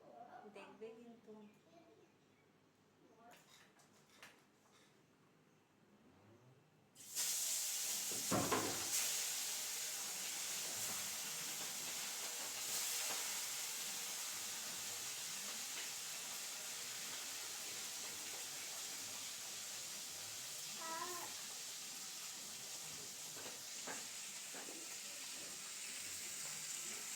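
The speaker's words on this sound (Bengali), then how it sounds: "এবার আমি মাছটাকে ভাজবো।" Bata fish seasoned with salt and turmeric is fried in hot oil in a pan. After a quieter opening with a voice, a sudden loud, steady sizzle starts and holds for the rest, with occasional spatters.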